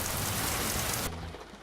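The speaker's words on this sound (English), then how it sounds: "And it is raining," Steady, dense rain hiss in Euro Truck Simulator 2 while driving a DAF truck through Germany, loud and even before abruptly dropping to a quieter wash just past the one-second mark.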